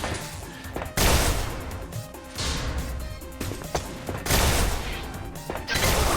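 Sniper rifle gunfire in a first-person shooter game, sharp loud cracks at about 1, 4.4 and 5.7 seconds, each followed by ringing decay, over busy game noise and scattered impacts.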